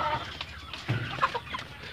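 A young hen clucks nearby in a poultry yard, a few short soft clucks and one sharper note within about two seconds, with some low background noise.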